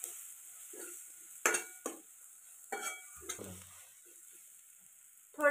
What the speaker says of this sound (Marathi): मसाले आपल्याला छान मस्त असे फोडणीत मिक्स करून घ्यायचे